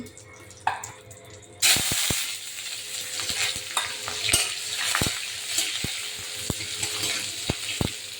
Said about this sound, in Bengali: পেঁয়াজ ভাজা হচ্ছে, দেখুন